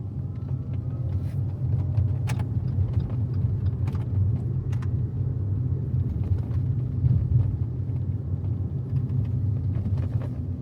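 A 2013 Fiat 500e electric car is driven, giving a steady low road rumble and tire hum heard from inside the cabin. Faint clicks and rattles occur throughout, and no one speaks.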